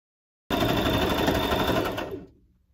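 A sewing machine runs steadily, stitching a seam on a pair of pants, its fast mechanical chatter loud and close for about two seconds before winding down and stopping.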